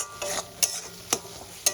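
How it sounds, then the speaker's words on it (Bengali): A spice paste with gram flour being stir-fried in a pan for an aloo-begun sabji, a few sharp scraping strokes of a spatula over a quiet sizzle, close and without speech. "এই মশলাটা আমি ভালো করে কষাতে থাকবো"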